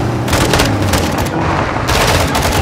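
A launcher fires and hits in Call of Duty Modern Warfare 2 campaign combat, loud dense rattling gunfire and blasts filling the whole moment without a break, close and overpowering.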